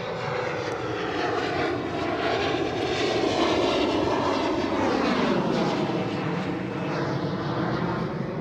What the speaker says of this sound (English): Noisy 175, E175 there.